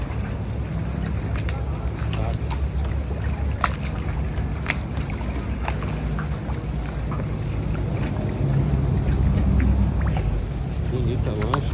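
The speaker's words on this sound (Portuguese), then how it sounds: "O táxi de Veneza são essas lanchas," A motorboat water taxi engine drones steadily close by on a Venice canal with water and wind noise, a low continuous rumble swelling slightly near the end.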